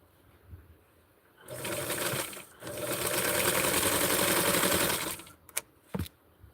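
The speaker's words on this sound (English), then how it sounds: "what I'm going to do now is sew it a little bit here on each edge." Up close, a sewing machine runs fast along the edge of a doll dress in two loud continuous bursts separated by a brief stop, followed by a few sharp clicks as it halts.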